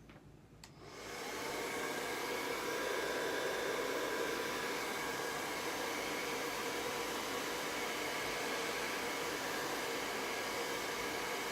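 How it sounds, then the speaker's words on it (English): Blow dryer drying fresh paint on a pumpkin patch vintage truck piece, switching on and then running with a steady, loud, close roar of rushing air that continues without a break. "we're going to hit it real quick with a blow dryer"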